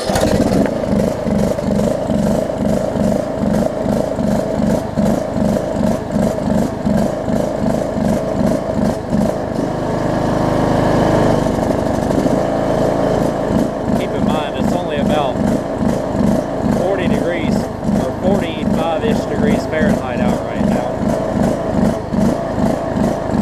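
A John Deere LA105 lawn tractor engine, checked for flooding with its air filter off, is cranked and runs in a rough, pulsing chug at close range. Someone talks over it.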